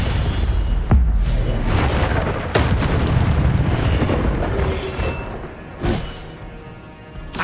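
Booming magical blasts from fire and combat spells, including Incendio, in the Hogwarts Legacy video game on PS5, several heavy thuds and bursts over about seven seconds with a roaring rumble between them.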